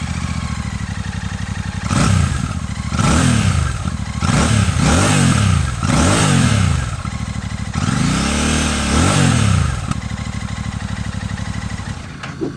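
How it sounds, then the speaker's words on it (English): A 2025 Royal Enfield Classic 650 parallel twin with a 270 crank runs close by, its engine note rising and falling through several loud revs over a steady idle. "I'm hearing mainly the sound of the engine, I think, as opposed to the exhaust"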